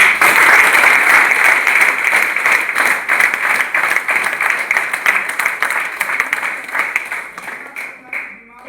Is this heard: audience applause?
yes